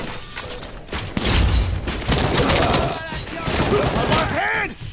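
Rapid gunfire in the Robocop: Rogue City video game, dense bursts of shots and mechanical clatter near and loud, with voices speaking between the volleys.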